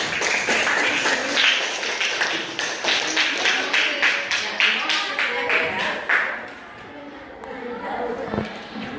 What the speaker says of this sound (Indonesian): Boleh kasih tepuk tangan buat teman-temannya.